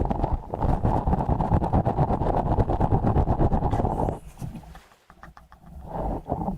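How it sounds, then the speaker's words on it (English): Close, rough rhythmic scrubbing of grainy sand, dense and continuous, pausing briefly near the end before resuming. "This is the sound of scrubbing sand in your ass."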